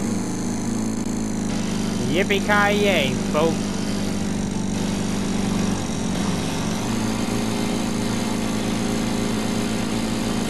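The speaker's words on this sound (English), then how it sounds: "Mowing the lawn." Lawn mower in the video game Kill it with Fire, a steady engine drone with a low hum running the whole way, while someone talks briefly over it near the start.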